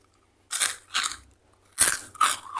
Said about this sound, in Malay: Dia kerepak-kerepuk, dia rangup.